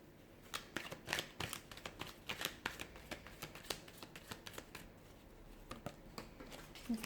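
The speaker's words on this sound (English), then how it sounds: "So we'll give the cards a shuffle" Tarot cards are shuffled by hand in a quiet room, producing a quick run of soft riffling flicks and taps that stay close and fairly faint throughout.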